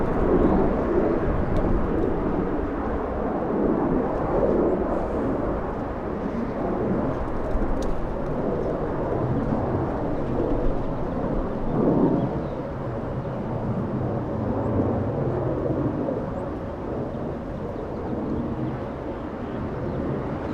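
A Southwest airliner in a special Louisiana livery readies for takeoff at Los Angeles International Airport, giving a steady, broad, moderately loud engine rumble that holds across the whole stretch with no clear peak.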